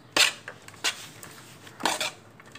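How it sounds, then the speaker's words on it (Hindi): Gram flour batter for pakoras being stirred in a bowl, with a few distinct clinks of a spoon against the dish spaced apart over a quiet background. "अब इसको हम मिक्स कर लेंगे अच्छे तरीके से"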